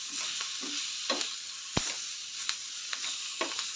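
Capsicum masala with masala powder and cumin sizzles in a pan, a quiet continuous hissing fry with light stirring scrapes and one sharp clack of a utensil.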